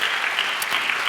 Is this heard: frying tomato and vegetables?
no